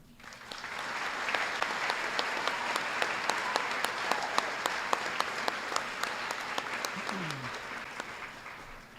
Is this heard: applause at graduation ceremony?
yes